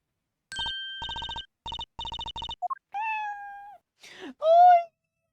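Cartoon cat meowing in the video game Apollo Justice: electronic ringing tones pulse first, followed by several distinct rising and falling meows, the last one loud and bright, with no talking.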